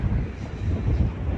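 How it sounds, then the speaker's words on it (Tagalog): Steady wind blowing at a sandy beach, a continuous low rumbling roar with gusts buffeting the microphone, no voices. "So kaso medyo mahangin lang"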